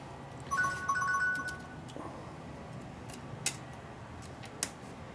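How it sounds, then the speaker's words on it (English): A mobile phone rings in a workshop, a short burst of bright electronic tones early on, followed by faint ticks and clicks in a quiet room. "Typical, my phone rings right now."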